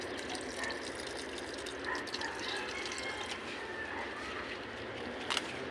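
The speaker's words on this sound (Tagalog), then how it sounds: "Pagkabukas ng gripo." Water runs weakly from an opened tap, giving a faint, steady trickling gush with slight surges and a small splash near the end.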